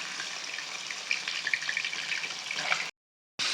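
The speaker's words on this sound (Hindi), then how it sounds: "हाई फ्लेम पे हमें इसे सेकना है, यानी फ्राई करना है।" Chicken pieces fry in hot oil over a high flame, giving a steady loud sizzle with crackling pops for about three seconds before a brief cut to silence, then the sizzle resumes.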